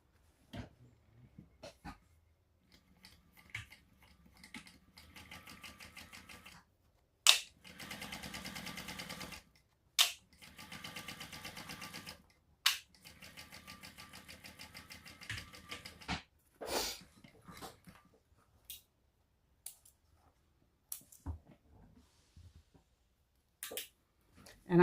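A sewing machine topstitches along both sides of a faux leather shoulder bag seam, running in several short bursts of rapid mechanical stitching separated by pauses and scattered clicks and handling taps, close and fairly quiet.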